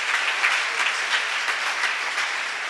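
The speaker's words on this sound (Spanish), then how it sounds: "Un aplauso a la presencia de Dios, por favor." A church congregation claps together during a Sunday morning service, a steady wash of applause heard from within the room, moderately loud and without speech.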